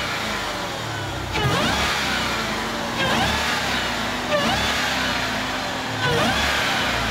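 A Jeep Grand Cherokee Trackhawk's supercharged engine revs repeatedly, four loud surges with a rising whine, each settling back to a rumbling idle.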